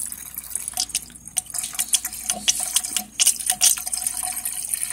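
Coolant squirts and splutters with air bubbles while a BMW 328i E39 cooling system is bled after water pump and thermostat replacement, giving irregular wet spurts and drips at close range.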